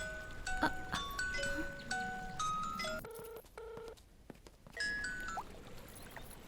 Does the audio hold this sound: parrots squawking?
no